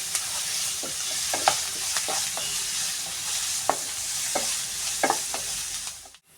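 Two finely chopped onions frying to brown in a pan, a constant sizzle broken by repeated scrapes and knocks of stirring, close and fairly loud.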